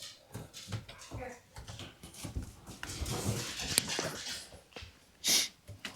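A dog inside a Class A motorhome whimpers and snorts in short bursts amid breathing and rustling, with a person talking nearby.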